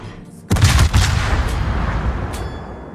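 Naval guns fire from a warship in a video game: one heavy, booming salvo hits suddenly and then rumbles and echoes away for a few seconds.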